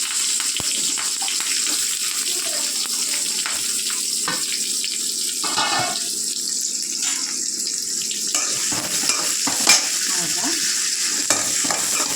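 Mustard seeds, fennel, cloves and cinnamon sizzle and fry in a hot pan, a steady close crackle with occasional stirring scrapes and brief louder spits throughout, no talking.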